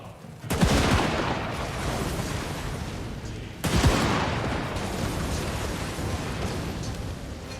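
Two loud gun volleys from massed infantry in Total War Warhammer 2, each a sharp crackling blast trailing into a long rumbling decay, spaced about three seconds apart with no voices.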